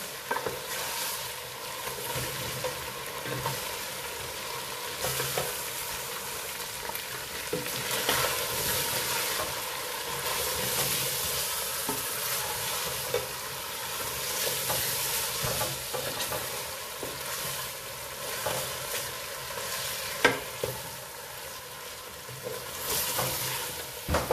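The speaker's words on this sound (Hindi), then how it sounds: "इसके अंदर हमने ऐड करनी है नेक ऐड करनी है और इनको थोड़ा सा हमने करना है फ्राई।" Lamb neck frying in a pot with a steady loud sizzle and hiss, while a spoon stirs and scrapes through it at intervals, continuous and close without pauses.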